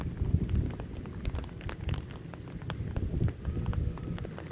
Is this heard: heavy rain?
yes